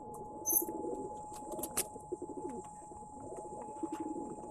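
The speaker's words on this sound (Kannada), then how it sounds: "ಇದು ಗಂಡು ಪಟ್ಟ ಸರ್" A male Rekdhar pigeon coos in soft, repeated throaty rolls close by, with a few light chirps and flutters around it and no talking.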